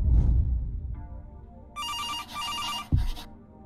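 Electronic telephone ringing in a horror video game, two sustained bursts of bright harmonic trilling tones after a low rumbling, closing on a sharp thud.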